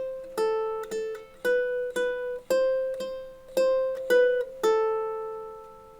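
A ukulele plays a steady strumming pattern alone, with about eight clear, evenly spaced chord strums that ring out between strokes. No voice counts along.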